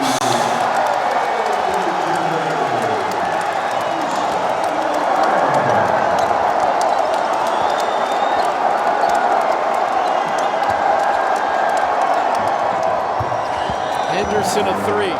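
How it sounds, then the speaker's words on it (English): A college basketball arena crowd at an SMU versus Tulsa game roars steadily, a broad sustained cheer under a commentator's voice, with faint claps and shoe squeaks. "The crowd is still going crazy."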